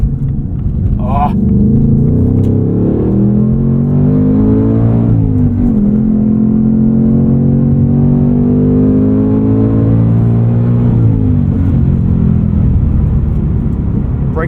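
A 2024 Ford Mustang Dark Horse with a Tremec six-speed manual runs in track mode, its engine droning loud and close as revs climb and fall through a corner, with gear changes breaking the pitch and a voice speaking over it.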